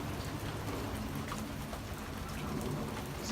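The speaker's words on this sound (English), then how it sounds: "Since it's raining right now, they're in the chicken coop." Steady rain falls outside a chicken coop, a close, even hiss of drops with no break across the whole stretch and no voices.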